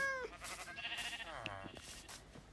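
Minecraft sheep bleat several times in quick, wavering calls, with other faint game sounds in the background.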